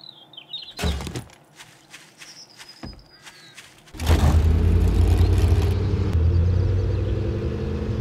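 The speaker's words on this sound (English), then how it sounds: "I swear that car sounds like it growls when you get out of it." A car engine in 7 Days to Die starts up and settles into a loud, steady low growl, after a few footsteps and thumps and a faint whistle.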